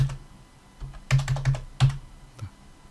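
Numbers are typed on a computer keyboard into an Excel spreadsheet: a handful of close, crisp key clicks in an uneven cluster, followed by a single later tap, with no voice.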